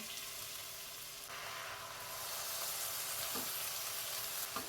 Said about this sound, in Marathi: आपले संपूर्ण भाज्या आणि तांदूळ छान परतवून झालेला आहे